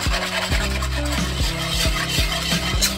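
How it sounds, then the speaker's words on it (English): A whisk scrapes rhythmically around a pan as milk is stirred into a creamy chicken spaghetti sauce, making a close, regular rasping with about six strokes, and nobody speaks. "There are hardly any more lumps in there, so just keep whisking."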